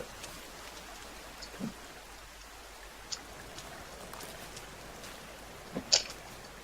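Steady, soft rainfall in the video game The Forest patters in a constant hiss, with a few faint, sharp drip sounds standing out.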